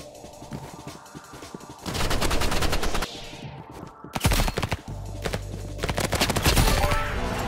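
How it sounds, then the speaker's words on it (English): Shotgun fire in the Roblox game Rivals, loud repeated blasts in quick bursts with short pauses between volleys, up close and with no talking. "That shotgun is scary."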